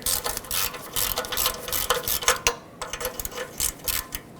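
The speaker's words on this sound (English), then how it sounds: "Use a 14mm socket and break this free." A ratchet with a 14mm socket works a rusty front-left catalytic converter bolt on a 2013-2020 Nissan Pathfinder, with close, loud bursts of rapid pawl clicking broken by brief pauses.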